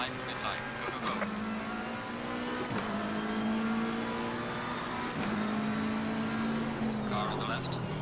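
A GT race car at Misano in Assetto Corsa Competizione revs hard and upshifts through the gears from a race start, its engine note repeatedly climbing then dropping at each shift while someone talks over it.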